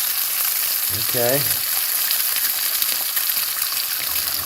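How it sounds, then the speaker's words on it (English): Steak and an egg fry in a pan, a steady close sizzle and crackle running throughout, with a single short spoken word near the start. "the 3 minutes on the steak starts now. So let's just get that egg in there."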